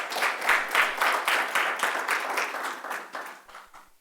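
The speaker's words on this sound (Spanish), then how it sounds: "Denle un aplauso al Señor." A church congregation claps during a Sunday service, a burst of rhythmic, rapid hand claps that swells quickly and then gradually fades away toward the end.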